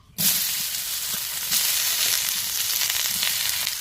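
Potatoes and pumpkin stems hit hot oil with a sudden sizzle that settles into a steady, close crackling fry, for a village-style bata fish curry.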